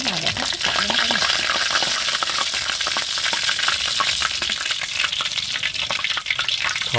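Freshly caught field fish fry in hot oil in a pan, a dense, loud, continuous crackling sizzle close by with occasional scraping stirs, no talk over it.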